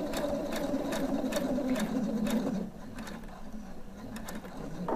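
A sewing machine stitching a shirt collar with a stand, running steadily with a fast mechanical whir and regular rhythmic clicks, close and moderately quiet, slowing slightly partway through, with no talking.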